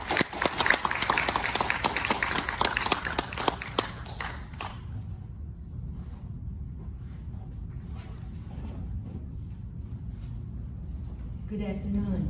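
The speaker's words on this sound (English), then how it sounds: "A big round of applause for Esther Kim." An audience bursts into a dense round of applause for a speaker at a Korean War 75th anniversary event, loud and steady for about four seconds before fading into room murmur and shuffling, with faint talk underneath.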